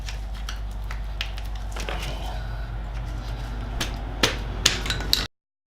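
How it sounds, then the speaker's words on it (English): A screwdriver prises up the outer wheel bearing seal on a Classic Mini, giving scattered sharp metallic clicks and scrapes over a steady low hum, with a few louder taps near the end. "use a screwdriver underneath and just try and lever that up. And get all the way around, try and obviously release it around the edge"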